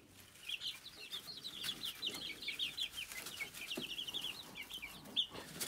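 Gold-laced Polish chickens clucking in a brooder, a busy run of soft chattering clucks and peeps close by over a low room hum, with one sharper call near the end.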